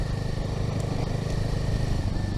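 Royal Enfield Himalayan 450 motorcycle riding along a country road, a steady close engine drone with rapid even pulsing throughout.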